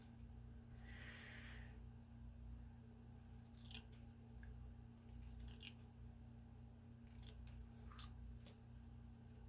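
Scissors snip through paper in a few short, crisp cuts spaced apart, close by, over a steady low hum in a quiet room.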